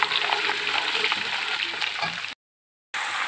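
Garlic, ginger and onion fry in a pan, a steady close sizzle with small stirring scrapes that drops to silence for a moment before resuming.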